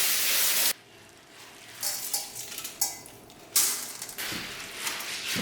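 Coriander seeds are washed in water, with a burst of running water followed by quieter swishing and sloshing in a bowl, rising in short splashy surges.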